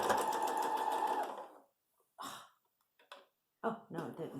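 A sewing machine back-stitching a fabric face mask, running in short close bursts: one long whirring run, then several brief stops and starts separated by quiet pauses.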